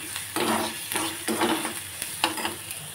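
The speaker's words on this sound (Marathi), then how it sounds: "चांगलं लाल होईपर्यंत परतायचं" Onion sautés in a pan until reddened, a continuous crackling sizzle that swells with each push of the spoon, roughly every half second, close and fairly loud with no talking.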